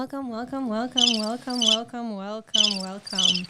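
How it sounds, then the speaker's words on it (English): A chirping insect sound effect: a series of evenly pulsed, buzzy chirps in quick bursts, loud and close, with no other sounds. "Crickets."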